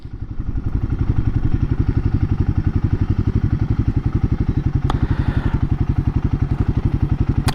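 A Royal Enfield Guerrilla 450 motorcycle fitted with a BMC air filter pulls in and settles, its engine thumping in a steady, loud, close rhythm throughout, with a brief click midway.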